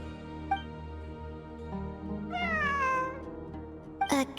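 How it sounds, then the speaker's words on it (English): A cat meows a few times in the Genshin Impact game world: one long, drawn-out meow with a falling pitch stands out clearly over soft background music, and shorter meows come at the start and the end. "It really is a cat."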